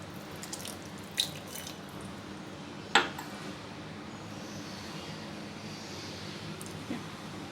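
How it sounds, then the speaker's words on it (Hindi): A little water poured into a pan of stuffed capsicum and potatoes in masala: a faint, steady hiss and trickle with a couple of small clicks, and no voices. "और इसके अलावा ज़रा सा पानी डाल देती हूँ।"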